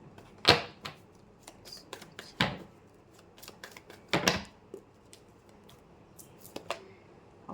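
Tarot cards are shuffled and drop onto a surface during a Hindi tarot reading, giving a few sharp, close flicks and slaps spread out with quiet gaps between them.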